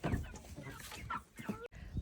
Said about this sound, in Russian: Куры, куры, куры.